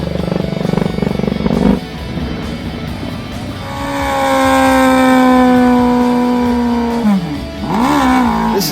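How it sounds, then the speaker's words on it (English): Top fuel drag bikes launch side by side down a drag strip, a loud rising engine howl climbing steadily in pitch for several seconds before cutting off, preceded by a rumbling idle. "Talk about a great drag race, huh?"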